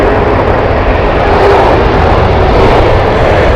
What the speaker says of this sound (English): A321 here from British Airways.